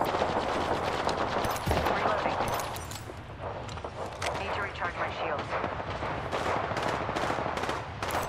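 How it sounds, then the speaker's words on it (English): Automatic gunfire in the battle royale game Apex Legends, rapid bursts and rattling shots filling the scene almost continuously, with a voice talking over the shooting. "They spotted me. I'm taking shots."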